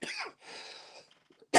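A single rough cough after inhaling high-THC cannabis concentrate, followed by a breathy, throaty exhale, close and fairly quiet, with a short sharp burst at the end.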